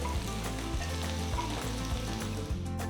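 Finely chopped garlic sizzles and fries steadily in hot oil with cumin seeds, a close, continuous crackle broken by the scrape of stirring.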